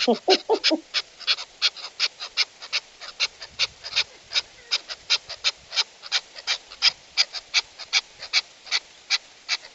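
Agitated wild birds give harsh, scolding alarm calls in a rapid, steady series of sharp bursts, repeating without pause and fairly close, with no talk over them.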